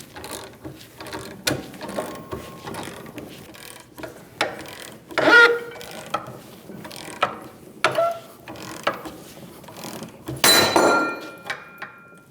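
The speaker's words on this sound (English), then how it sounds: "we're going to press out our upper control arm bushings." Ratcheting clicks and mechanical creaks from a bench vise pressing upper control arm bushings out of a 2001-2006 Chevrolet Silverado control arm, in irregular bursts with louder strained squeaks, close and without talk.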